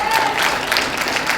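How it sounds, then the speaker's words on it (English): Brief burst of audience applause at a foundation awards ceremony, steady broadband clapping from a crowd with a thin tone near the start, moderately loud throughout. "Clap, clap, clap."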